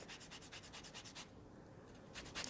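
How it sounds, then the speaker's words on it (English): An orange is zested on a grater in rapid rhythmic rubbing strokes, a quick burst, a short pause, then a few more scrapes, close and fairly quiet. "It's definitely easier to zest before you cut the orange"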